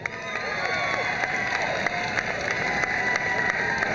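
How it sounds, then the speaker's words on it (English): Crowd at a Chicago 2016 Olympic bid rally applauding and cheering, a dense sustained roar of clapping with scattered shouts and whoops, near and loud throughout. "Please give a big round of applause for Josh George."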